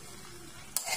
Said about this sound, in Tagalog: Ayan, halo-halo ulit. Halo-haloin.